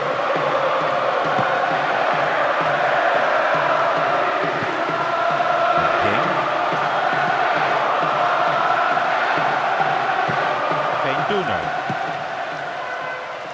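A stadium crowd in the football video game PES 2009 keeps up a loud, unbroken roar of massed voices throughout, with faint bursts of chanting and cheering rising now and then.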